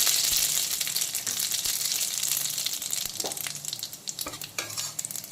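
Radhuni seeds tempering in hot oil alongside dried red chili already fried black, a loud, dense sizzle and crackle that gradually eases, broken by scattered pops and a few stirring scrapes.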